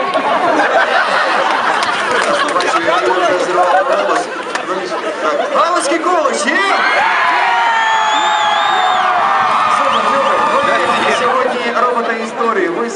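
Large outdoor crowd at a student Euromaidan rally in Ternopil cheering and whooping loudly and continuously, with chatter and shouting voices mixed throughout and a swell of cheers partway through.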